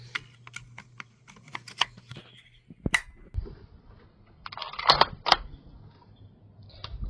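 Hornady American Whitetail 300 Win Mag cartridges loaded into a Ruger American Generation II rifle, a series of close metallic clicks and snaps, then a sharper clatter of metal handling.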